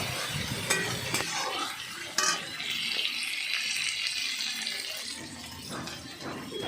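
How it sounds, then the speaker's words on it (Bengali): Steady sizzling of onion frying with garlic paste in a pan, with occasional stirring scrapes and clinks; no talking. "রসুন বাটা, দিয়ে ভালো করে সুন্দর করে ভাজা ভাজা করব"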